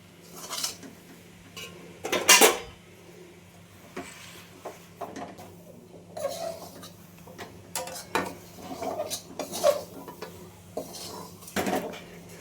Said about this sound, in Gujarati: આપણે એકદમ માવો પીગળી જાય ત્યાં લગી મિક્સ કરતું જવાનું છે